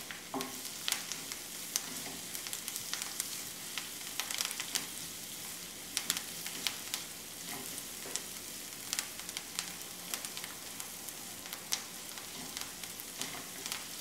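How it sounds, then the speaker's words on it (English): Onions, garlic and fresh thyme frying in a pan, a steady soft sizzle with scattered crackles and pops running throughout, moderately quiet and close, with no talking. "It always smells great when you get onions and garlic in the pan."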